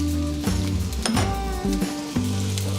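Onions and celery sizzle in a pan over a flame for homemade chicken chow mein, a steady close frying hiss broken by a few stirring scrapes and clinks, with no talking.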